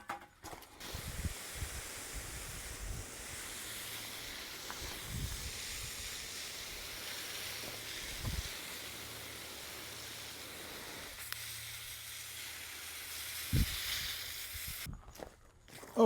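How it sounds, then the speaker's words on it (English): Water sprays steadily from a hose onto freshly moved garden plants outdoors, a soft continuous hiss with occasional footsteps and faint handling noises, fairly quiet and close. "Now let's shoot a little water on them."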